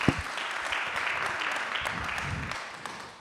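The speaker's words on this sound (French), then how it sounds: "on peut applaudir" An audience at a New Year's greetings ceremony claps steadily throughout, a moderate, even patter of many hands heard from the room, fading slightly toward the end.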